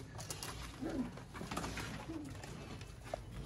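Chapda breed pigeons in a breeder's loft give a few soft, low coos at close range over a faint background hum.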